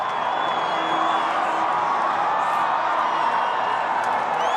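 A football stadium crowd roars steadily after a Giants win over the Cowboys in a 1981 game, a dense sustained wash of cheering and whoops from thousands of fans with no breaks.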